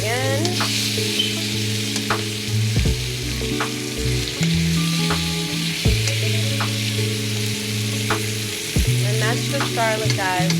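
New York strip steak sears in butter in a pan, a steady close sizzle running throughout beneath sustained tonal background sound, with occasional sharper crackles and pan taps.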